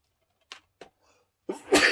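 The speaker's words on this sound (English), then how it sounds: "You're gonna sneeze." A single loud sneeze closes out a quiet moment, preceded by a couple of short soft sniffs or breaths.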